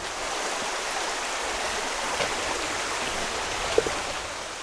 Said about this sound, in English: Welcome to Jump Creek Falls. This is just a gorgeous waterfall, absolutely worth visiting